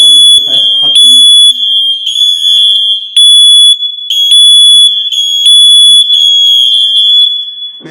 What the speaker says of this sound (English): Now we've got a FireAngel YSafe 2 Pro mains heat alarm. I'll just test the sounder.